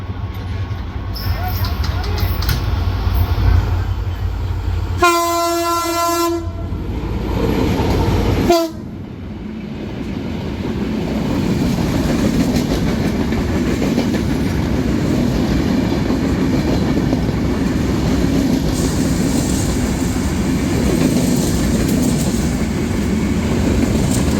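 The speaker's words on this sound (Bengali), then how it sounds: "সুপাস করে গেল একতা এক্সপ্রেস ঢাকা থেকে ছেড়ে আসা পঞ্চগড়গামী" The Ekota Express, an intercity train bound for Panchagarh from Dhaka with LSB coaches, sounds a loud harmonic horn blast. The horn cuts off abruptly and is followed by a sustained close rumble and clatter of carriages passing on the crossing track.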